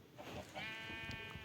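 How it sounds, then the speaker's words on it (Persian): Sheep bleating in the Minecraft video game, several wavering bleats close together over a faint low hum, with no talking. "2 تا گوسفند دارم"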